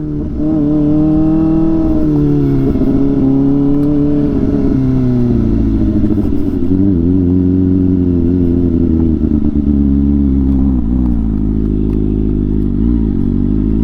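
A Kawasaki ZX-4R motorcycle rides on pavement, its engine droning loud and close with a steady high-revving tone that shifts pitch as the throttle changes, dense and continuous throughout with no voices.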